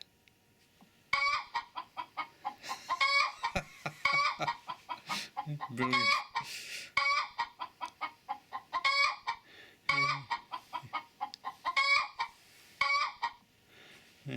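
Hens clucking in a hen house, played back on a Google Pixel 6a phone: repeated bursts of clucking and cackling, fairly close and steady, with a brief spoken word over them.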